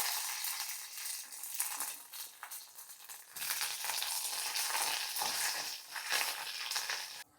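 Mustard seeds, cumin, a red chilli and curry leaves sizzle in hot tempering oil for fenugreek tambuli, a crackling hiss that swells loudly as the leaves drop in, with light spattering pops and no voices.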